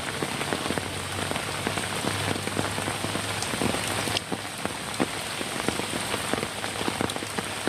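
Heavy rain pours down steadily and close by, a dense, continuous patter of drops drumming on surfaces, with no voices over it.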